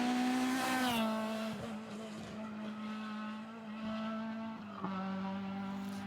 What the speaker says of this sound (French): Et elle sera suivie par une Renault Twingo, celle de Lucas Valbrec et de Mehdi Rossigno